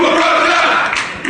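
Protesting football fans at Charlton, a dense crowd roaring and chanting together, loud and sustained throughout with a brief dip near the end before rising again.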